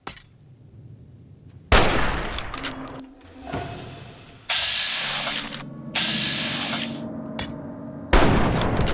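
Gunfire and explosive booms from the video game Fallout New Vegas, with several sharp loud reports and heavier blasts in quick succession, mixed with bursts of game effects.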